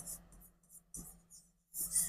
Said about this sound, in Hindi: चलो मैं यहां लिख देता हूं